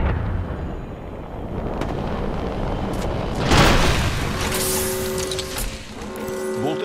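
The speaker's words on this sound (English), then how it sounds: "You hear that? There's a care package coming down." A care package plummets from the sky in the Apex Legends battle royale game, a loud, rumbling whoosh that swells around the midpoint and then settles into a steady roar with droning mechanical tones.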